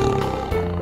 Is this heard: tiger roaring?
yes